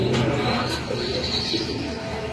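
Pigeons coo at a Karachi bird market where breeder pairs are sold, giving a low, continuous cooing under a busy, noisy background.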